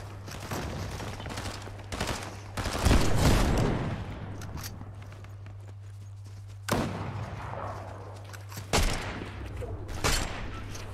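Rapid video game gunfire from an SMG battle-royale squad fight crackles in dense bursts and scattered single shots, close and loud over a steady low hum, with quieter gaps between volleys.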